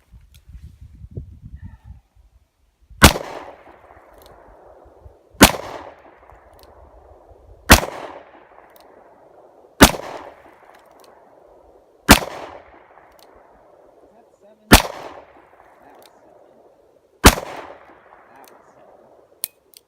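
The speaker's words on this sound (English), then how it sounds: "So we might just shoot at that a little bit more and show you guys that thing bouncing around." A Smith & Wesson 686+ revolver with a 3-inch barrel fired at a bouncing target outdoors, with seven loud, sharp single shots spaced about two seconds apart, each followed by a fading echo, after a brief murmur at the start.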